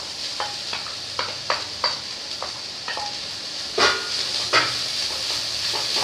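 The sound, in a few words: beef added and stirred in frying pan for cutlets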